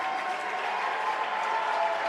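A stand crowd at the Empire 8 Championships swim meet applauds after the 200 breaststroke, a steady, dense roar of clapping that stays loud and even throughout without letting up.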